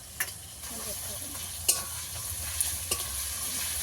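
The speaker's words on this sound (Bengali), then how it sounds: "রসুন বাটা দিয়ে ভালো করে একটু ভেজে নেব" Garlic paste fries in a pan as it is stirred, giving a low sizzle broken by four sharp utensil clinks against the pan. No one speaks.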